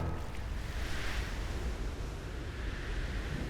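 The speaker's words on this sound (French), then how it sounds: "Les vagues sont beaucoup trop fortes" Strong sea waves in an animated undersea adventure cartoon make a low, steady rushing roar of surf and water with a windy texture, fairly quiet and unbroken, with no voices.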